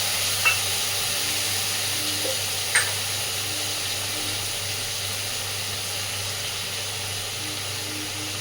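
Ground spice paste with a little water frying in a pan for an eggplant mustard-oil curry, giving a steady, fairly soft sizzle with a couple of brief clinks near the start, no voices.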